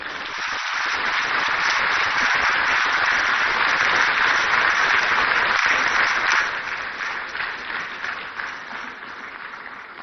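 Sustained, dense applause from a large conference audience, steady for several seconds before gradually thinning out toward the end.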